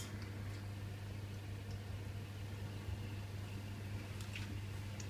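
A Hotpoint Aquarius DW30 dishwasher runs with a steady low motor hum and faint mechanical whir, continuous and moderately quiet throughout, with a few light clicks near the end.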